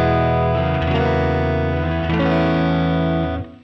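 An electric guitar runs through the Sonicake Matribox reverb with vibrato, playing a few sustained, wavering chords that ring out in a loud, lush wash before fading at the end.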